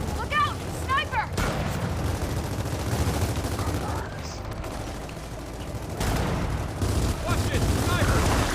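Gunfire in Gears of War 4 booms in heavy bursts amid battle noise, with sharp cracks and rumbling impacts, while voices shout over the fighting.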